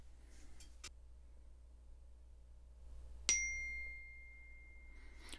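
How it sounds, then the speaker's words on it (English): A single bright text-message alert ding chimes from a Pioneer NEX CarPlay receiver inside a car, ringing out and fading over a faint steady hum, with a couple of soft clicks earlier. "I received a text message, and you heard that ding in the background"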